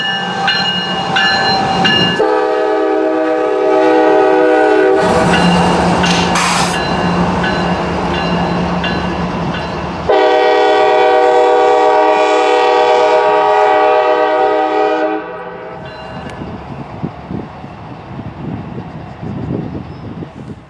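CSX pusher locomotives returning light on the Chattanooga Subdivision at Cowan, Tennessee, loud and close, with long blasts of the air horn sounding repeatedly over the rumbling diesel engines and rail noise.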